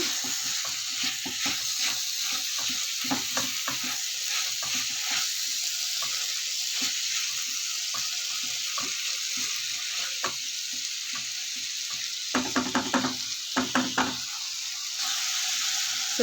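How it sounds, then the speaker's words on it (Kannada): Onions and tomato sizzle steadily in a hot pan, with intermittent scraping and stirring clatter, and a short burst of louder clinks near the end. "ಈರುಳ್ಳಿ ಎಲ್ಲ ಚೆನ್ನಾಗಿ ಫ್ರೈ ಆಗಿದೆ ಟೊಮ್ಯಾಟೊ ಹಾಕ್ತಾಯಿದ್ದೀನಿ"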